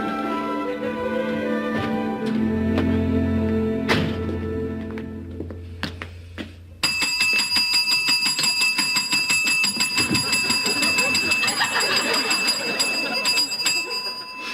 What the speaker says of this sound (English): You have been told never to ring that bell.